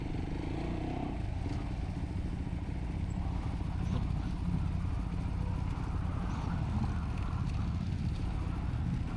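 Lexmoto sports motorcycle riding along, a steady rumbling engine drone with wind and road noise, continuous and close, with faint voices underneath.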